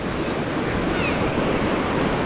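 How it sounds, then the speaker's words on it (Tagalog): Small ocean waves break steadily on a shore, a continuous loud wash of surf with some wind noise on the microphone and no talking. "Maliliit na naman ang alon."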